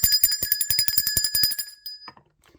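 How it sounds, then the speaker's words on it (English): A bell rung rapidly and repeatedly in a fast ringing burst for about two seconds, bright and loud with shimmering metallic overtones, then cutting off into a faint tail and near silence. "Let's ring the bell for Yum Simu."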